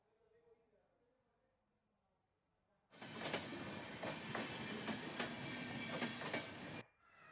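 A passenger train on the Bagaha–Gorakhpur rail line bursts in loud and close, a dense rumbling roar with regular clickety-clack beats lasting about four seconds before cutting off, preceded by faint background murmur.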